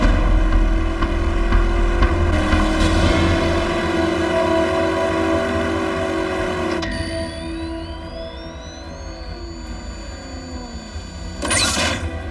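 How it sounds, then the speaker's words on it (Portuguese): A heavy engine rumbles steadily and grows closer, with a rising whine and a brief burst of noise near the end. "Eu conheço o barulho desse motor de longe."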